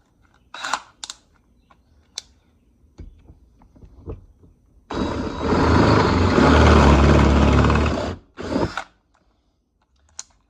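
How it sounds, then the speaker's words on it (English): A power drill with a step bit whines loudly for about three seconds as it bores through metal on a trailer, preceded and followed by brief clicks and short tool bursts. "as you step up, it gets a little bit faster to drill your hole"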